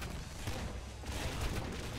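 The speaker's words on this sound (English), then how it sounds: "Kraken ion cannon." Kraken ion cannon firing in the video game Nuclear Throne, a dense, continuous crackling barrage of blasts with rumbling low-end booms, loud and unbroken throughout.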